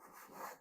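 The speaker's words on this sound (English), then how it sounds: "you can use to scrape the wood" A hand scraper drawn across a wood surface to lift fine shavings, one brief, quiet rasping stroke that swells slightly and fades.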